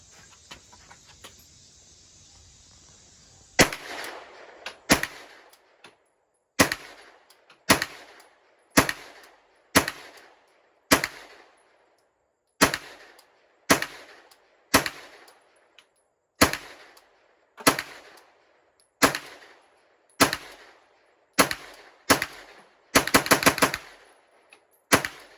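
Palmetto State Armory AKv 9mm carbine fired through a full magazine: about sixteen sharp, loud shots in a slow steady cadence after a quiet lead-in, with a quick burst of rapid shots near the end.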